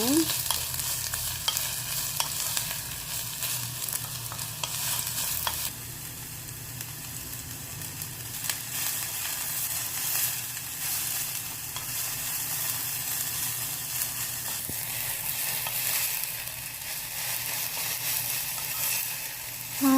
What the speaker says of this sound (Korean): 식용유 4번 둘러주시고 파 듬뿍 넣어서 파기름을 내주도록 할게요